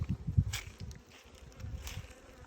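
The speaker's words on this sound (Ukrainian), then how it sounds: "Бджоли об'їдають прополіс і все на цьому" A low, steady buzzing of bees hovering close by, with faint scratchy textures, continuing for a couple of seconds without any voices.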